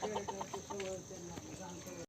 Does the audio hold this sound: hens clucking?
yes